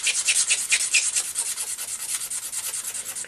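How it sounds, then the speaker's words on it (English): A straight edge razor blade scrapes char off wood in quick, rhythmic strokes, a close, bright rasping repeated about four times a second with no voices. "Just using a straight edge razor blade, and I'm just scraping it clean."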